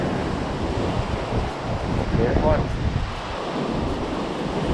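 Strong wind buffets the microphone and waves roll beneath a seaside fishing pier at Hua Hin in stormy weather, a steady loud roar throughout with a brief voice speaking near the middle.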